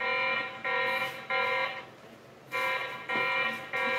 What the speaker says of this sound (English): it seems like the camera alarm is dependent on the motion